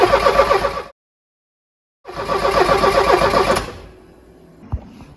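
A Porsche 924 engine cranks and catches, running loud and rough for a few seconds, then after a brief gap it cranks again and runs before dropping to a quiet idle-like hum with a single knock near the end.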